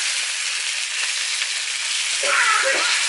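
Pork loins sizzle and fry steadily in a hot pan, a dense close crackle that swells briefly as the pieces are flipped near the end.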